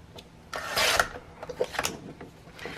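Paper pages for a handmade book cover being trimmed all the way around, close scraping and rasping cuts in short uneven strokes with small rustles between them.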